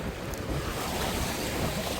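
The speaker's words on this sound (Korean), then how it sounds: "살짝 봐서 파도가 밀려온다" Sea waves wash onto coastal rocks at Ohori, a steady broadband surge of churning water mixed with gusty wind noise on the microphone, with no talking.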